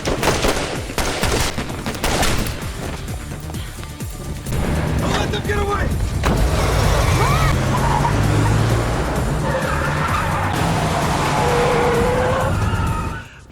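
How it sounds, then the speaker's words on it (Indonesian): A van speeding off during a car chase, its engine roaring loudly and steadily after a burst of gunfire, with sirens and action noise around it and a voice narrating over the scene. "Para intern kembali berhasil melarikan diri menggunakan mobil van-nya."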